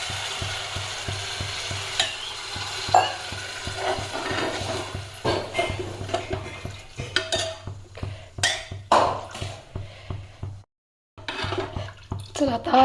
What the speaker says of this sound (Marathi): मस्त फोडणीमध्ये पाणी घालू